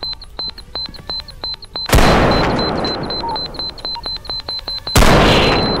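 Two loud shotgun blasts in the airsoft game Bodycam, each a sharp boom with a long decaying tail, about three seconds apart, over a ticking, clicking background.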